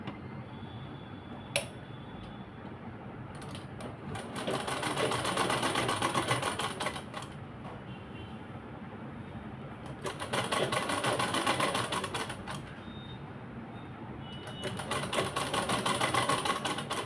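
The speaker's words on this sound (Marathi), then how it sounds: "ह्या कोपऱ्यापासून इथं अशी शिलाई मारून घेऊया" A sewing machine stitches a yoga mat cover in bursts, whirring steadily for several seconds at a time with quieter pauses between runs, heard close and alone.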